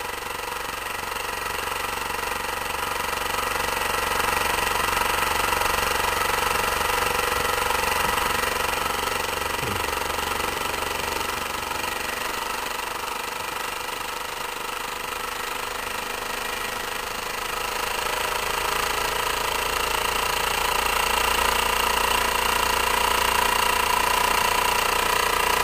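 A small 10cc rhombic drive Stirling engine, pressurized to about two atmospheres, runs with a steady mechanical whirring and rapid tapping, close and continuous throughout with only slight swells in level.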